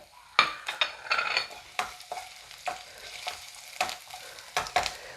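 Sliced garlic and ginger sizzle in a hot pan of oil for beef kondattam, with repeated close scrapes and clinks of a stirring spoon over a steady frying hiss.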